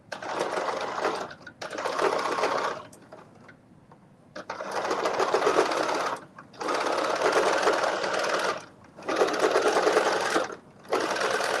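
A sewing machine stitches a seam on a McCall's 8037 garment in bursts of fast, steady whirring, four runs separated by brief pauses, close and alone.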